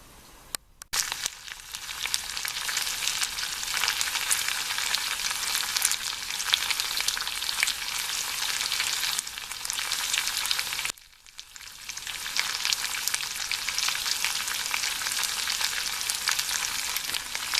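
Lamb fat, meat and onions fry in a pan with a loud, continuous bright sizzle, cut by a brief stir near the start and a short dip partway through before the hiss resumes.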